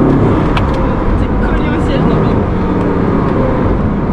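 A Bugatti Chiron with a 1,500-horsepower engine idles loudly while warming up, a deep, steady rumble close by that holds level for the whole few seconds.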